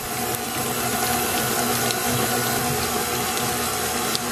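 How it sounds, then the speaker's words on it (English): KitchenAid stand mixer running on its stir setting through a berry mix, a loud steady motor whir with continuous churning and occasional faint clicks. "now I've got our berry mix in the KitchenAid, and I've got it on stir"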